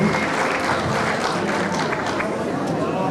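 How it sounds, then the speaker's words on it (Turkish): Loud, continuous applause from a large crowd at a primary school event, honouring teachers, a steady dense roar of many hands with faint crowd murmur beneath. "Onlara da kocaman bir alkış istiyorum."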